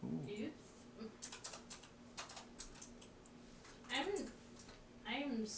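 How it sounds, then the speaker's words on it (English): Keyboard typing with long artificial nails, producing quick bursts of light clicking taps that come and go under nearby talking. "I am typing."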